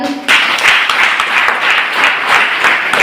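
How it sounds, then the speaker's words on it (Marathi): A church congregation claps loudly together in quick, rhythmic unison after a brief pause, a strong, steady pulse of hands that fills the room. "आपणही मोठ्याने टाळ्या मारून प्रभू येशूला धन्यवाद देऊया."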